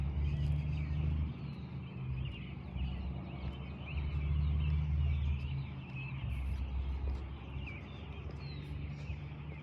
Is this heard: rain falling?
no